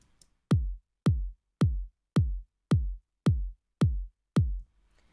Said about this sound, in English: And the other is a more mid-rangey kick.